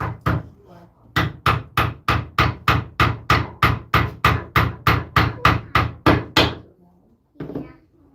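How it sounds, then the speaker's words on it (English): Wooden pegs are hammered through a metal dowel plate: a rapid, even series of about eighteen sharp, loud knocks, then a pause and one last softer blow. "this is almost ready to go through the dowel plate"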